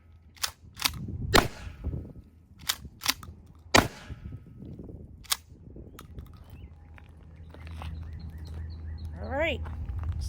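A Mossberg Shockwave 590 shotgun fires five sharp, loud reports at an outdoor range, spaced unevenly across the first few seconds and then giving way to quieter handling noise and birdsong.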